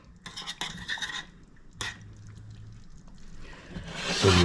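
Bread pudding sauce stirred in a pot with a spoon, a few scraping and clinking strokes against the metal, then a rising hiss near the end.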